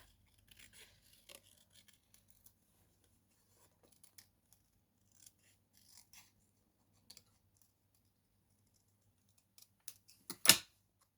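Scissors make faint, sparse snips through paper on a card-making kit sentiment, then a louder, sharper cut comes near the end in a quiet room.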